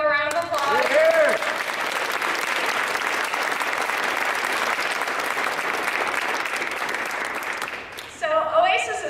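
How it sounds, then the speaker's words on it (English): An anniversary gathering gives the board of directors a loud, sustained round of applause; a voice is briefly heard just before it starts and again after it ends. "Everybody give them a round of applause."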